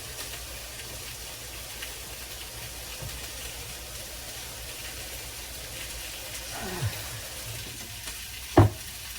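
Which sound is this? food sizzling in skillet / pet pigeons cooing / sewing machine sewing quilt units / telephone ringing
food sizzling in skillet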